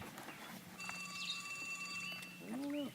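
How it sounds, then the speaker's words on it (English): A phone rings in a steady electronic tone while out fishing for pickerel on Henderson Harbor, faint and distant, probably from up on shore, with a brief spoken remark near the end. "Whose phone?"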